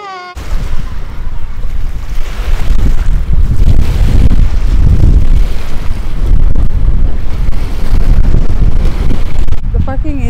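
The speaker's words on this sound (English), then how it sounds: "Inside our tent because the outside is so windy." Strong wind buffets a tent beside Upper Kananaskis Lake in Alberta's Peter Lougheed Provincial Park, a steady loud rushing roar with gusting swells throughout, heard close from inside the tent.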